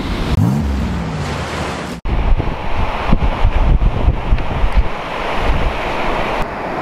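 Strong sea wind roars and buffets the microphone over crashing surf at a cold beach during a windsurfing session, with a sharp dropout partway through and steady gusting after.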